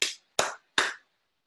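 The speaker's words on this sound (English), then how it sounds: "Presumably you could do it because you recognize what hands clapping sounds like" Three sharp hand claps in an even, unhurried rhythm, each close and crisp with a short ringing tail, followed by silence.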